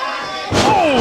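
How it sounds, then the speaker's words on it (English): A wrestler is slammed down onto the ring during a hardcore deathmatch, one heavy thud that cuts sharply in halfway through and sits under a commentator's voice. "being slammed down to the ground"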